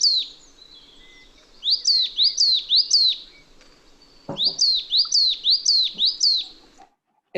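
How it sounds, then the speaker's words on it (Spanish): A coal tit sings in a clear, close recording, with two bursts of rapid repeated bright two-note phrases separated by a short pause and a faint background. "El carbonero garrapinos, perdón, vamos a escucharlo primero."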